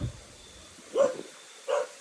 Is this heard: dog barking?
yes